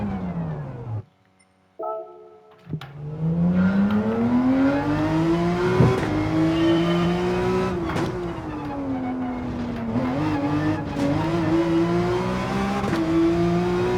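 A Porsche 911 engine at full throttle in the video game Gran Turismo 7, loud and close. After a brief drop near the start it rises in pitch through long pulls, with gear shifts breaking the climb.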